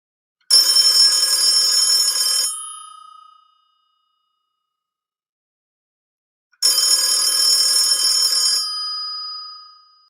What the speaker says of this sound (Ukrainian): І тут задзвонив телефон.